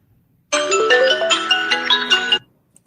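A phone ringtone plays a loud, bright electronic melody of quick repeated notes for about two seconds, close and alone, then cuts off.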